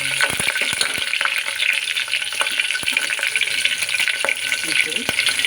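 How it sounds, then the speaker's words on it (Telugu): Green chillies fry in hot oil for a tempering, a steady bright sizzle close up with occasional ticks and scrapes of a stirring utensil. "పచ్చిమిర్చి తాలింపు పెట్టుకున్నప్పుడు మనం కొంచెం స్లోగానే వంట పెట్టుకోవాలి."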